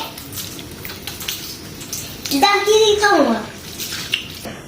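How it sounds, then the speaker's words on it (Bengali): Hands are washed under running water while preparing to make fuchka, a close splashing and trickling stream with a brief rising pour in the middle, alongside faint voices in the background. "এই জন্য আমার হাত দুটো হচ্ছে পরিষ্কার করে ধুয়ে নিব"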